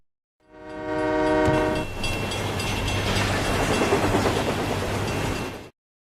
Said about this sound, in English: a local train passes through